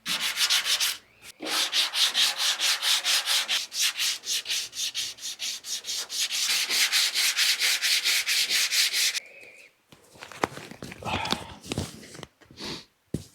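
Rhythmic sanding strokes rub over bodywork on a Datsun 280Z car, loud and close in steady back-and-forth passes, pausing briefly before a looser stretch of scraping and rubbing.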